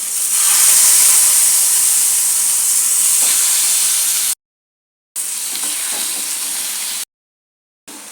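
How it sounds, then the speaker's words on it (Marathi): Kingfish (surmai) pieces shallow frying in hot oil in a pan, a loud steady hiss and sizzle broken by two short gaps of silence, with no talk. "नंतर सुरमईला हलकीशी फ्राय करून घ्यायची आहे।"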